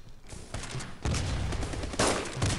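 A weird razor-firing gun in the video game Armajet, used like a shotgun, letting off a few loud blasts in quick succession with crackling bursts and no talk over them.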